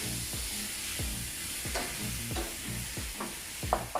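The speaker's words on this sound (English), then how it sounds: "And we're gonna stir fry these babies." Ingredients for ram-don, including cheese, are stir-fried in a pan with a steady sizzle and rhythmic scraping and tossing strokes about every half second, close and moderately quiet with no talk.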